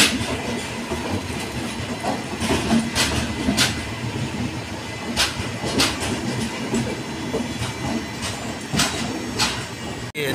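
A Chennai Central to Madurai passenger train rolls past nearby, with a steady heavy rumble and repeated clickety-clack wheel beats over rail joints, loud and continuous throughout.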